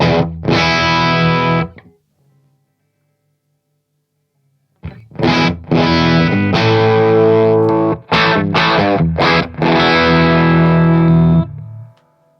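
Electric guitar through a transparent overdrive pedal with the gain turned up, into tube amps: a loud crunchy strummed chord, a pause of near silence, then driven chords and choppy rhythmic strums that ring thick and saturated before cutting off.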